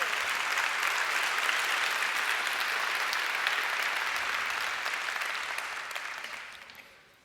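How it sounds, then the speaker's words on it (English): Church congregation applauding during a worship service, a dense, loud wash of clapping from many hands that holds steady before tapering off at the end. "let's appreciatively applaud the Lord one more time for our music ministry."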